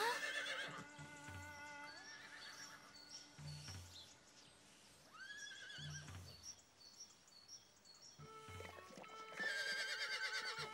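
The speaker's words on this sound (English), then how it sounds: "They're just horses." Horses whinny several times, some calls near and some farther off, over faint hoof clops and light bird chirps in a quiet outdoor setting.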